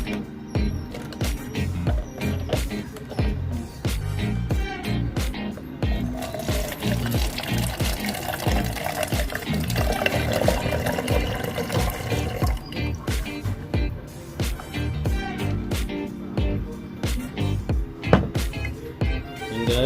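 Liquid poured through a plastic funnel into a homemade insect trap container, giving a steady trickling splash that runs nearly twenty seconds with faint background noise.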